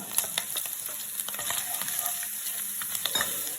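Ginger and garlic frying in a hot pan for a Kerala meat puttu, a steady close sizzle with scattered crackling pops and light stirring, no voices.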